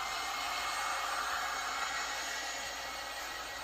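A heat gun blows a steady, even hiss of hot air while softening a vinyl jet ski seat cover, a continuous broadband rush that holds at a constant level throughout with no voices.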